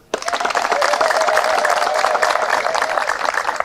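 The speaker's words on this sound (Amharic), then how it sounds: "አንዴ እስቲ አጨብጭቡ።" A church audience breaks into loud, sustained applause that starts abruptly and continues at a steady level.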